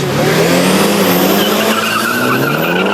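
Nissan SR20-powered cars, a Datsun 510 1600, Pulsar GTI-R and Bluebird with a BMW, launch on a drag strip. Engines roar loud and close with rising, overlapping tones throughout, and nobody speaks.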